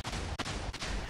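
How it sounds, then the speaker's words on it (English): Chain of booming TNT blasts in the Minecraft video game, one roaring rumble after another with two brief dips between them, loud and dense with no voice over it. "It's just blowing up my whole world."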